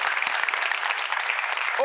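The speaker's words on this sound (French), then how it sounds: "Applaudissements pour vous-même." A studio audience at a French-language talk show applauds, dense continuous clapping filling the whole moment, fairly close and even in level.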